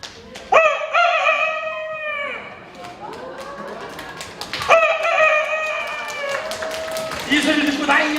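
A voice imitates a rooster crowing at dawn, giving two loud, drawn-out cock-a-doodle-doo calls close up, each ending in a falling tail, followed by a softer imitated cluck.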